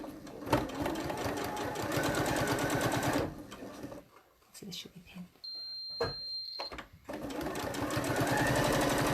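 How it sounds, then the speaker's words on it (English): A tired, rattly sewing machine runs with a fast, rattling stitch, stops briefly for a pause with a soft tone, then resumes; a person speaks briefly over it. "Our sewing machine's getting a bit tired after all those masks. Getting a bit rattly, isn't it?"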